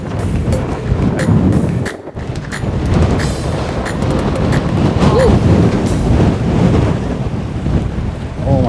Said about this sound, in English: And the wind. You're gonna be blown away.